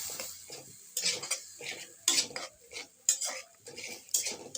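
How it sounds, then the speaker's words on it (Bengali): Spinach and prawns with a little added water, stirred in a pan: a utensil scrapes against the pan in a steady rhythm of about five strokes, close and moderately loud. "আমি সামান্য পরিমাণে পানি অ্যাড করে দিলাম এবং নাড়াচাড়া করছি"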